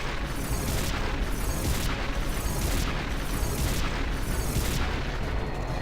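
A fiery blast effect in Final Fantasy X, a dense, continuous roaring rumble with swelling pulses about once per second, loud and steady throughout with no voices.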